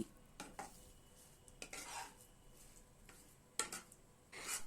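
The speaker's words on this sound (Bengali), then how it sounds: "দুধটা দিয়ে খুব ভালো করে মিশিয়ে নিচ্ছি" Semolina being stirred with milk and powdered sugar in a pan, a spoon scraping and clinking against the metal in several short bursts with soft shuffling between them, close by and fairly quiet.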